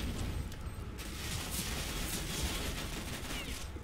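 Gunfire in the video game CS:GO, sustained rapid bursts blending into a dense, loud barrage of shots and booms that carries through the whole stretch.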